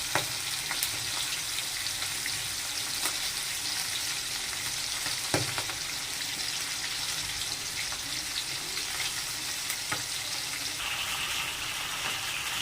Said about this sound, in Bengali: মাছগুলো এক পিঠ ভেজে নিয়েছি আর এক পিঠ উল্টে দিয়েছি।